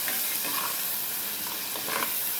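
Dried fish and tomato curry sizzling and frying in a pan, a steady close hiss with brief stirring scrapes, heard alone without talk.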